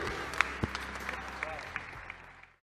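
Applause from a fashion-show audience for the models at a Roberto Cavalli runway presentation during Miami Fashion Week 2019, a steady dense wash of clapping that carries on for a few seconds with brief sharper claps standing out, then cuts off.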